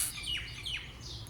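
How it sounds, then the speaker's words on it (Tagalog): Birds chirp in mango trees, several bright, quick downward-sweeping tweets over a soft outdoor background. "ang daming ibon"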